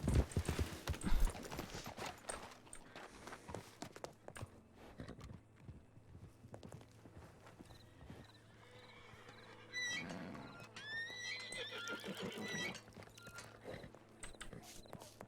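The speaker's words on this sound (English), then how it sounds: "Ooh, I hear a horse." Horse hooves clip-clop at a steady walk in the RedM western roleplay game, with a horse neighing partway through; the sounds are moderately close and fairly quiet over a low background hum.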